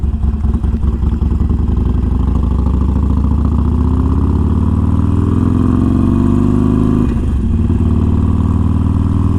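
A tuned Harley-Davidson Forty-Eight motorcycle idles steadily with a deep, throaty exhaust rumble, loud and close, with a slight throttle blip near the end.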